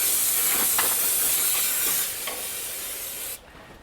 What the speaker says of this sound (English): Want to just take some brake clean, spray that off, and wipe it down.